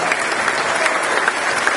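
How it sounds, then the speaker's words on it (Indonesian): A crowd of students and young supporters at a political dialogue claps steadily and loudly throughout a brief burst of dense applause. "Tepuk tangan."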